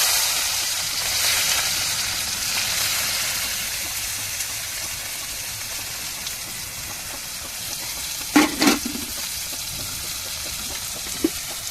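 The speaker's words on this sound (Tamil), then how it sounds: "இப்போ எண்ணெய் சூடேறிச்சு நம்ம கட் பண்ண வெங்காயத்தை சேர்த்துக்கிறோம்" Chopped onions sizzling in hot oil in a pan for macaroni, a steady close frying hiss with a few brief louder spatters near the end.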